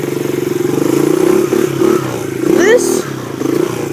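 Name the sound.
pit bike dirt bike engine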